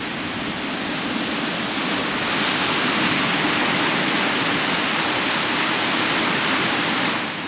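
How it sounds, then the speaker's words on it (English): Tidal water rushes through ocean narrows in the Exumas, a loud, continuous broadband roar of churning water, steady and close, with no voices. "when the tide comes in it rushes through these narrows here"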